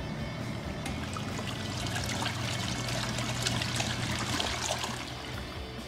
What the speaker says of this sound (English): I just drained all the water into the bathtub with the holes on the side